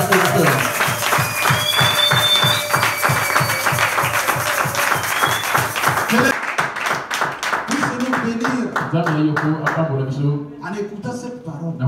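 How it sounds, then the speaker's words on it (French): Congregation in a church service clapping and cheering loudly in steady rhythmic applause, then the claps break into scattered, uneven bursts with voices calling out over them. "Acclamez Jésus bien-aimé."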